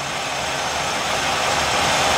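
A 2003 Mazda Tribute SUV engine runs steadily while the vehicle sits on ramps during repair work, a continuous broadband drone holding even and loud throughout with no voices.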